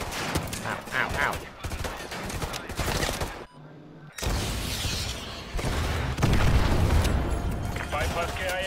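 Missile strikes and gunfire in the Modern Warfare 2 video game, dense booming blasts and rapid shots packed together with a short quiet gap midway, loud and close throughout.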